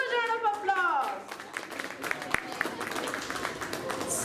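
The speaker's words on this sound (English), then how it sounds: "Give them a huge round of applause." Audience at a school event applauds children after their performance, with a voice at the start before scattered clapping builds into steady applause.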